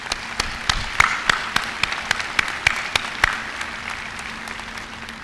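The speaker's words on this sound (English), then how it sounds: "how about a round of applause for our teachers?" Applause for the teachers at a high school graduation, a sparse, steady patter of clapping from a hall crowd with crisp individual claps standing out, moderately loud and gradually thinning toward the end.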